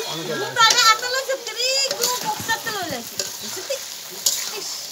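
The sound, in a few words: country chicken meat frying and being stirred in oil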